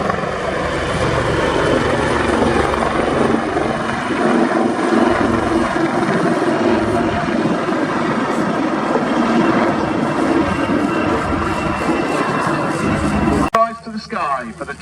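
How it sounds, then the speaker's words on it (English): A Chinook helicopter flies an air display demonstration at RAF Cosford, its loud, continuous rotor thrum and engine roar filling the air, with a commentator talking over the top. "Rise to the sky for the 2025 Chinook roll demonstration."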